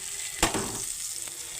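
A fried rohu fish head lands in a pan with turmeric and spices and sets off a short burst of sizzle. A steady frying hiss carries on after it, with one faint stir, close and wordless.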